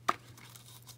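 A single short rip of tape being torn off for a handmade card, quick and close, followed by near silence.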